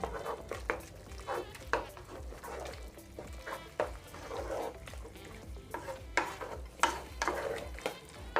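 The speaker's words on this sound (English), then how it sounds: "Then we're going to stir." Minced beef with pili pili pepper flakes is stirred in a frying pan: repeated scraping strokes of a utensil against the metal over a low sizzle, close and steady, with no speech.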